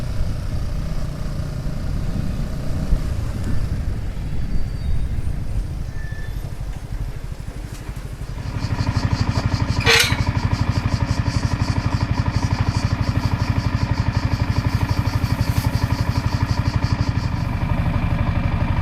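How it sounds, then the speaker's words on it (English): A 125cc motorcycle in the Alps is heard loud and close, a rough low rumble giving way to a steady, buzzing engine note that holds to the end. "Here comes my bike."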